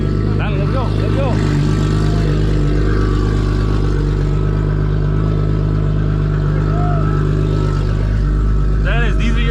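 A Toyota Supra's engine runs steadily and close by, with an idling rumble that builds slightly as the car pulls away, while people talk over it throughout.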